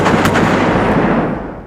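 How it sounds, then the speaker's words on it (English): Repeated blasts from a 30mm cannon on a Stryker armored vehicle, heavy booming reports that merge into one loud rolling burst and then decay. "Other variants carry medium and large caliber weapons for direct fire on enemy troops with 30mm cannons"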